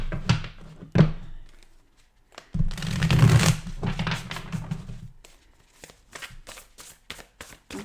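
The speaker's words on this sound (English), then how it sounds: "let's just shuffle these a few more times." Tarot cards being shuffled by hand, with several riffling bursts and soft thumps of the deck being squared, close and clear, with no talking.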